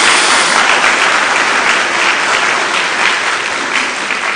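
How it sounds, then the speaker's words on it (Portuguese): A church congregation applauds steadily and loudly, a dense continuous wash of clapping that holds for about four seconds without a break. "Dê uma salva de palmas a Jesus"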